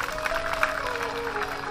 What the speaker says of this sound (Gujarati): પાલો તાળી હવે પાડવાની જરૂર છે।